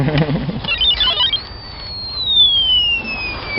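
A metal detector's high electronic tone rises and glides slowly downward while searching for scrap metal in western Ukraine, a steady beeping whine with some faint rustling underneath.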